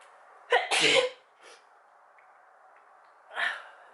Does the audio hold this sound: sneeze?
yes